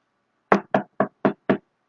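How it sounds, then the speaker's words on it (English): Five evenly spaced knocks on a door, sharp, close and steady in rhythm, sound with nothing else around them. "You can ring the doorbell or you can go knock knock knock knock knock."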